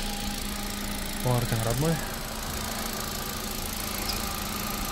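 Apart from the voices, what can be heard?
Kia Morning car engine idling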